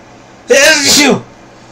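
A single loud, sharp sneeze bursts out, about a second long, clearly close to the microphone against a quiet background.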